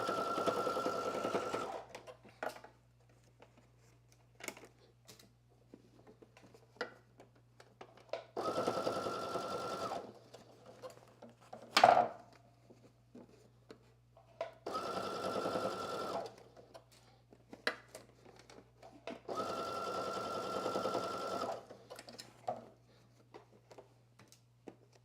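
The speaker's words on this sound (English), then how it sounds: "I'm going to sew using a regular length stitch and sew all the way around" A sewing machine stitches a seam around a Juliette top in four bursts of rapid, even whirring, a few seconds each, with quiet pauses and faint handling clicks between runs.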